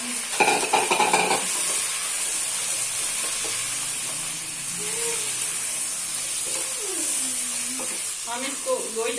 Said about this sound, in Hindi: हम इसको गोश्त डाल के 5 मिनट तक भूनेंगे